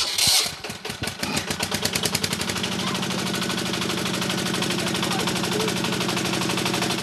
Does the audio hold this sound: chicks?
no